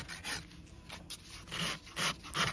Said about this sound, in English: I'm going to start rasping and start creating my bevel and balancing this hoof